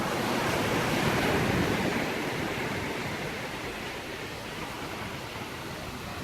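Ocean surf rolls in steadily on Kamala Beach in Phuket, Thailand, a continuous broad wash of breaking waves with a little wind across the microphone, loud and close with no voices.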